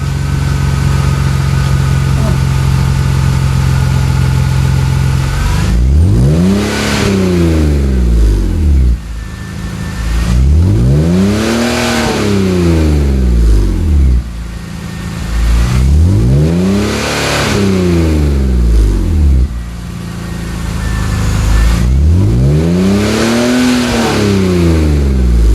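A BMW E46 330i engine with a Magnaflow cat-back exhaust revs hard four times in a row, each pull rising in pitch and dropping back, with a loud throaty exhaust between short idle pauses.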